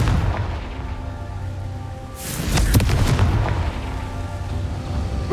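The Confringo blasting spell exploding in the Hogwarts Legacy wizarding action game: one loud deep boom with a crackling burst, swelling midway and fading into low rumbling ambience.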